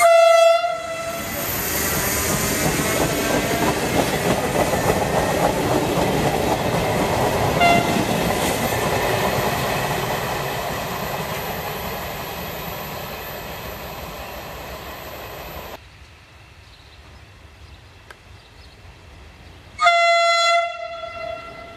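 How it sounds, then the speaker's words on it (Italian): Realistic sound effect of a model railway train departing in a night-time model city, a loud horn blast followed by long rolling clatter that fades, then a second horn at the end, with no speech. "Il treno regionale 22502 di Trenitalia per Villa Literno delle ore 5:10 è in partenza dal"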